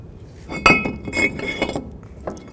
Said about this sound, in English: now we can put our rotor on